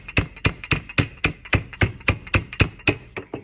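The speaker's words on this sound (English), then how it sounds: "I put it inside a plastic bag and flatten it a little to help it cook more evenly" Chicken breast inside a plastic bag being pounded flat, about a dozen sharp, evenly spaced thuds in quick steady rhythm, close and loud, with no voices.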